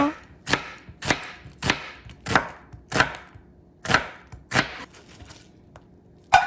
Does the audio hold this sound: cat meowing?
no